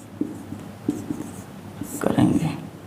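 Pen writing on paper while a maths problem is worked out, with short scratchy strokes under a teacher's Hindi explanation, a louder burst of writing near the end.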